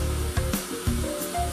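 A spray-tan applicator misting an acetone-based self-tan solution hums with a steady motor whine, broken by short hissing bursts of spray, close and fairly loud with no talk.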